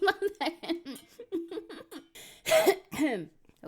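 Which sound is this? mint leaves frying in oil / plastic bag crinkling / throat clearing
throat clearing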